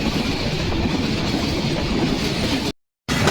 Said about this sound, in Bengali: সৌরগতিতে থ্রুপাস যাচ্ছে রংপুর অভিমুখী রংপুর এক্সপ্রেস